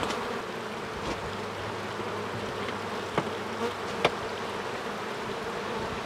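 Honeybees buzz steadily around a hive built in a wine barrel while unruly comb is scraped off, with a dense close hum and a few sharp scraping or knocking sounds over it.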